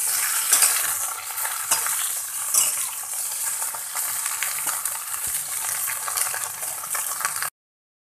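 Okra frying in oil in a kadai, a continuous bright crackling sizzle with occasional spoon knocks and stirring scrapes, close and fairly loud, alone without talk, ending abruptly.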